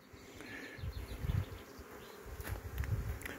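Honey bees buzz steadily on the frames of an open beehive, a dense, continuous low drone with swelling and fading passes of nearby insects and no voices.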